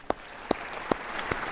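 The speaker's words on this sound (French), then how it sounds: "Je vous prie de l'applaudir" Four separate, evenly spaced claps sound at an African Union summit hall over a quiet room background, sparse and fairly close rather than a full crowd ovation.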